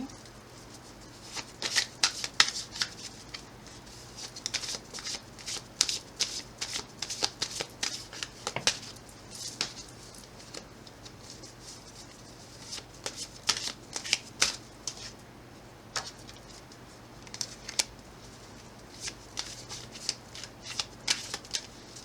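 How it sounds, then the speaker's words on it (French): A deck of tarot cards is shuffled by hand, giving a long run of crisp riffling and flicking bursts with short pauses in between, close and fairly quiet, with no talk over it. "Je vais voir avec un autre jeu, on va voir. Je vais mélanger."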